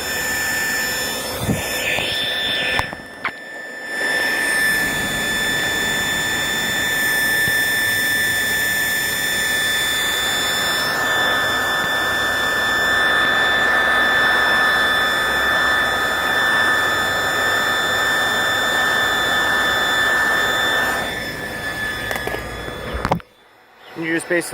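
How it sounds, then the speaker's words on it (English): A hair dryer blows with a steady, loud whooshing noise, heating carbon fiber headlight overlays on a Subaru Crosstrek, running continuously for over twenty seconds with a high whine on top, cutting out briefly near the start and end. "Turn on your hair dryer"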